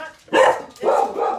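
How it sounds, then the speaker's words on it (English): A dog gives two or three short, close, loud barks in quick succession, with no one speaking over them. "Is Jilly your new dog?"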